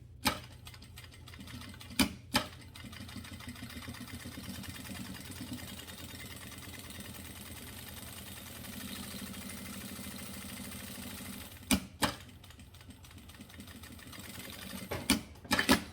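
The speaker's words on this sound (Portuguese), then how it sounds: "Passar uma costura de segurança em volta de tudo." A sewing machine runs a safety seam around the edge of fabric pieces for a cable organizer. It makes a steady, fast mechanical whirr and stitch rattle that lasts throughout, with a few sharp clicks near the start and end.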